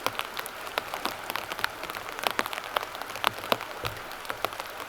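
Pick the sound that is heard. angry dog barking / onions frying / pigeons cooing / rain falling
rain falling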